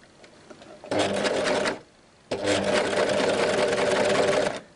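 A sewing machine runs in two bursts, stitching along organza close to a cotton fabric edge on a homemade reusable produce bag; a steady mechanical whir, close and loud, with a short pause between runs.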